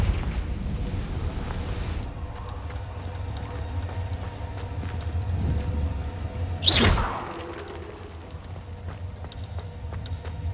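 A Confringo fire spell goes off in Hogwarts Legacy as a single sharp burst with a whooshing blast near the middle, over a steady low rumble of game ambience.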